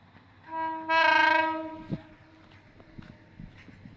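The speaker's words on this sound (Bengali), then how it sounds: "এই যে ট্রেন চলে যাবে এখন। কি সুন্দর রাত্রেবেলা ট্রেন" A train passes a railway crossing at night. One long, loud horn blast is heard at a distance, then faint clacks and rattles from the rolling wheels.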